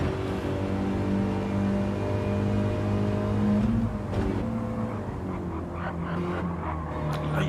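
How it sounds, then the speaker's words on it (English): A Mini race car drifts and accelerates through a corner at Tsukuba circuit, its engine droning steadily with pitch shifts as it revs, joined by other cars' engines. "Drifting that mini into this final corner, closing that gap up again on Pugwash"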